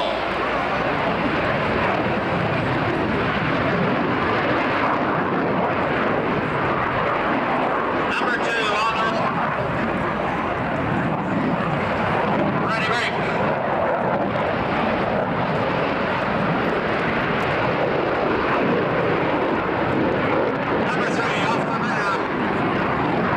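An F-15 Eagle fighter jet roars overhead on afterburner, a continuous loud rumbling blast that swells and fades, with faint voices underneath.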